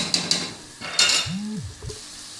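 Spices with turmeric being roasted and stirred in a pot for shab daig, a spoon scraping and clinking against the pan in short bursts over a soft sizzle, close by with no talk.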